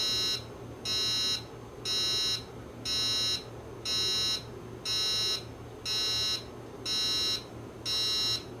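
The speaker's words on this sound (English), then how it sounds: "That's the alarm." A harsh, loud electronic buzzer from a faulty Heathkit GC1005 clock's alarm sounds in regular pulses about once per second, repeating steadily over a low background hum.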